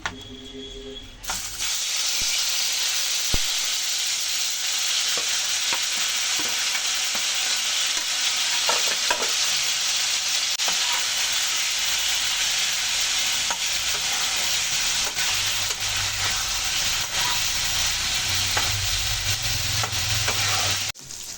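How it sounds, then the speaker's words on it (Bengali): Marinated meat frying in a pan for mixed fried rice in a home kitchen, a loud steady sizzle and hiss running throughout, with occasional stirring clicks and no talk. "এবার এবারে মাংসগুলোকে ফ্রাই করে"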